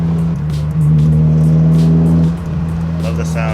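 A Honda Civic Si engine revs hard with the windows down while cruising, a loud steady drone that climbs and holds, then eases off, heard from inside the car with someone talking.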